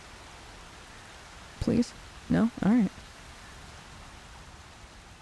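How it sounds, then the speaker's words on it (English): Steady rain falling in the Horizon Zero Dawn video game, a soft constant hiss that runs throughout while a person speaks a few brief words over it. "you got caught in the rain"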